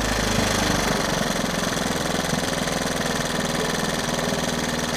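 A three-wheeler engine idles low and steady close by, its rough rhythmic chug running unbroken with no talk.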